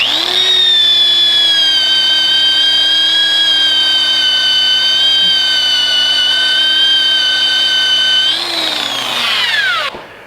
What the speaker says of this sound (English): I only use the coarse grit sandpaper with the drill and the sanding disc